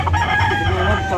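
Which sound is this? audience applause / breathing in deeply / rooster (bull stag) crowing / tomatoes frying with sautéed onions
rooster (bull stag) crowing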